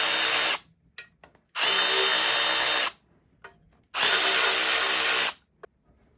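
A power tool drives out timing cover bolts on a Chevy 305 engine, whirring in three long, loud bursts of about a second each, separated by quiet pauses with small clanks.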